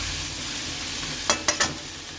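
Onions browning in a pan for a Bengali bhola fish dish give a steady low sizzle, broken near the end by three quick clinks of a utensil stirring, with no voices.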